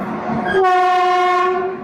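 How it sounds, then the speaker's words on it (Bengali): A freight train passes close by a stationary passenger train at Cuttack station, its loud horn blaring in one sustained blast over the rumble of the wagons. "তার পাশ থেকে মালগাড়ি দুরন্ত গতিতে এগিয়ে চলেছে"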